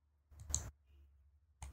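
A couple of short, crisp clicks from a computer keyboard key, separated by a pause, close and fairly quiet with no talking.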